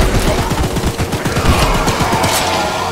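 Sustained rapid automatic gunfire in the video game Choo Choo Charles, a loud continuous burst of closely spaced shots aimed at the monster train Charles, with no pauses across the stretch.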